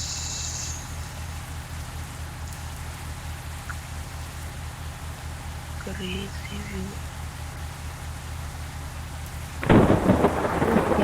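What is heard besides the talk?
rain and thunder in Bus Simulator video game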